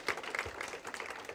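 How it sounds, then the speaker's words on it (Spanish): Audience applause at a book presentation during a literary fair, brief faint patter of many hands clapping, distant and soft throughout. "Y les pido un aplauso desde ya para Marcela."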